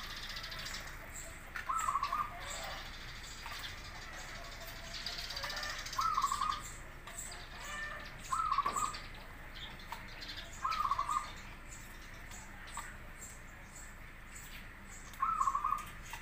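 A local zebra dove (perkutut) cooing in a recording of its song, five short, clear calls repeated every few seconds at moderate distance over steady background noise, with no talk.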